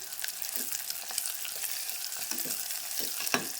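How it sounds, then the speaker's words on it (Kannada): Chopped onion and dried curry leaves fry in hot oil in a pan for a potato palya, giving a continuous crackling sizzle with soft stirring scrapes throughout and no voices. "ಈಗ ನೋಡ್ರಿ ಉಳ್ಳಾಗಡ್ಡಿ ಕರಿಬೇವ ಎರಡು ಫ್ರೈ ಆಗ್ಯಾವ್ರಿ"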